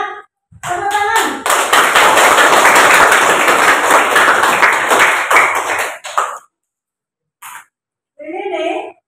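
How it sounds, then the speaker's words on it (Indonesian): Students in a classroom break into loud, close clapping for about five seconds, quick and fairly rhythmic, ending abruptly, with a teacher's voice briefly before and after. "Semangat, tepuk tangan."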